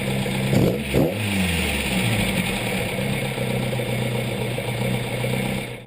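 An engine on twin Weber DCOE carburetors gives a couple of quick throttle blips near the start, then settles into a steady, close idle.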